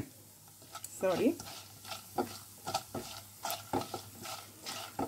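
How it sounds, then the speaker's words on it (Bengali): Whole black pepper, coriander and cinnamon frying in oil in a pan, a quiet sizzle punctuated by regular soft taps and scrapes of stirring, with a brief faint voice early on. "এই তেলের মধ্যে এগুলো সব ভাজবো।"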